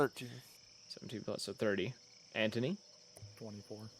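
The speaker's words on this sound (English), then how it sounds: "listening to the crickets chirping and the other sounds of the night." A steady, high-pitched chirp of crickets at night runs faintly through the whole stretch beneath several people talking, as a tabletop war game is played.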